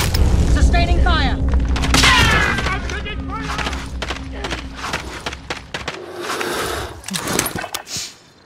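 Gunfire and explosive booms from a Warzone squad match, loud bursts of shots and heavy thuds mixed with game voice lines and chatter throughout, the densest firing early on before thinning toward the end.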